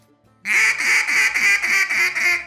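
A hand-blown duck call sounding a run of about seven evenly spaced, loud, nasal quacks in a steady flat cadence, played alone and close.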